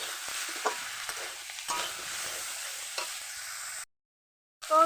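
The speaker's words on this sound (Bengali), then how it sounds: "এটাও আমি নেড়ে চেড়ে একটুখানি মিশিয়ে নেব" Spices with salt, pepper and chilli powder are stirred and fried in a pan for a tomato fish curry, giving a soft steady sizzle with a few scraping stirs before a brief silence near the end.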